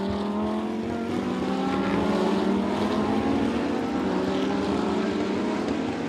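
Lamborghini Super Trofeo race cars race at the Jerez circuit in a 2019 European series race, producing a continuous loud engine drone whose pitch climbs steadily as the cars accelerate.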